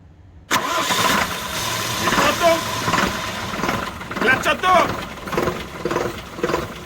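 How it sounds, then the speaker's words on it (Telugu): A truck's diesel engine cranks and catches after a new clutch plate is fitted, settling into a loud, close, rough idle with knocking bursts and a voice talking over it. "ఒకసారి వదులు బండి స్టార్ట్ చేయి"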